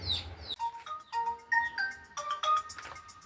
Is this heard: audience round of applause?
no